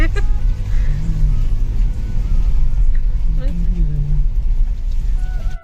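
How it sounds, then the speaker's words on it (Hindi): Cars sit idling and creep along in a traffic jam near a fort's parking area, a close steady engine rumble with faint horn-like tones and a person talking over the traffic. "ट्रैफिक में फंस गए हैं पार्किंग के लिए"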